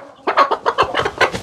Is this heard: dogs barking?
no